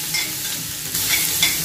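Chopped ginger and garlic sizzle and fry in hot oil in a pan while being stirred, for a Kerala-style mutton roast; a steady close crackle with bursts of spatter.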